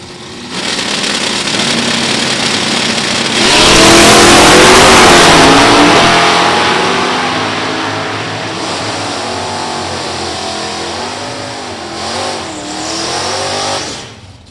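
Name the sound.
1991 Firebird Trans Am, LS1 4-speed, drag race launch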